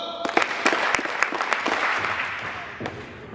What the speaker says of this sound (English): let's give them 5 claps when I say go